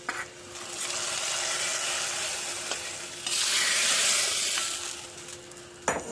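Tempering poured into a lentil curry with drumstick leaves sets off a loud, steady sizzle that swells sharply partway through, then settles and ends with a brief clatter. No voices.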